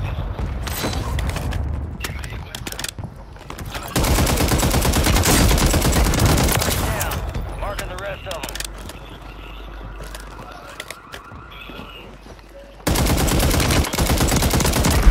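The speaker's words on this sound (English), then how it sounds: "I am shooting on console right now" Rapid bursts of video game gunfire played on a PS5 console, loud and dense, with sections of rattling automatic fire broken by quieter stretches before heavy shooting resumes.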